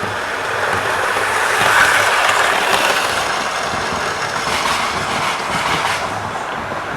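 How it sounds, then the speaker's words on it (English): Model railway train running steadily around a layout track, a continuous close rolling rumble and clatter for several seconds with no talk. "here she comes again with her train."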